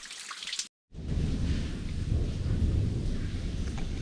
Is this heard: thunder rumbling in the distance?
yes